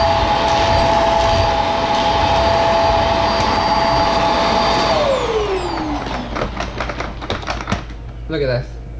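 A Hoover PowerDrive Pet vacuum cleaner running on a hard floor, a loud steady motor whine that winds down about halfway through as it switches off, followed by light clicks and handling knocks.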